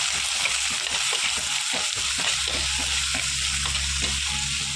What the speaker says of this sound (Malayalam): ഒരു വലിയ ഉള്ളി ചെറുതാക്കി അരിഞ്ഞു വെച്ചതാണ്. അതിട്ട് ഈ ഉള്ളികളെല്ലാം നല്ലോണം വഴന്ന്